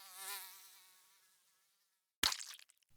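A high, thin mosquito whine buzzes close and loud at first, then fades steadily to nothing over about a second and a half before a short, sharp burst of noise.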